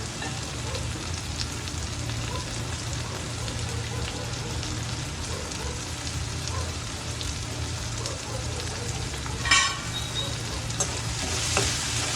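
Spring onion greens and white onion stirred into a frying vegetable dish, a continuous sizzle under steady stirring with a couple of louder scrapes near the end.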